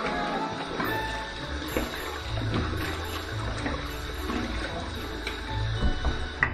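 Water runs from a tap to wet a face before a shave, a steady splashing gush that stays fairly close and loud, with small splashes and clatter throughout and no one talking.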